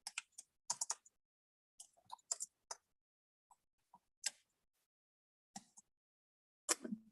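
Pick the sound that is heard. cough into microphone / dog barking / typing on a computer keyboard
typing on a computer keyboard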